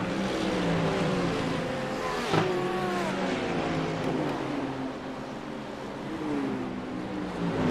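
A race car engine in a sim racing endurance event at Road Atlanta drones and whines through rising and falling gears, with a sharp shift near the middle, steady and loud throughout, cars running in traffic.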